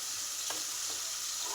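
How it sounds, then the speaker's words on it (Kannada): Onions and tomatoes frying for a mutton dish, a steady soft sizzle with a couple of brief stirring scrapes, close and fairly quiet with no voices. "ಉಳ್ಳಾಗಡ್ಡಿ ಟೊಮೆಟೊನ ಫ್ರೈ ಮಾಡ್ಕೊತೀನಿ"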